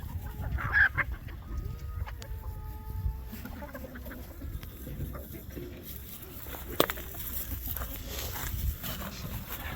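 Pasture-raised, free-ranging laying hens clucking and calling in a barn with fresh bedding, several birds at close and middle distance, with scattered short calls and rustling throughout.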